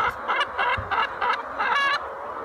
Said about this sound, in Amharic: ተንኮለኛ ዶሮዎች ላሳያችሁ